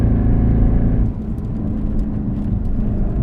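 A 2009 Mercedes C63 with a loud exhaust gives off a steady, close engine drone and rumble, easing slightly after the first second and then holding an even roar with no talking.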